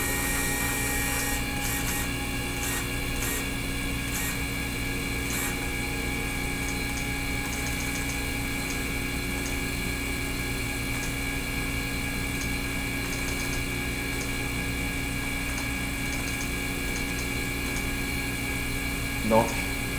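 A Roland MDX-40A CNC milling machine moving at high speed, giving a steady, close mechanical whine with several sustained tones and a constant motor hum, broken by a single short click near the end.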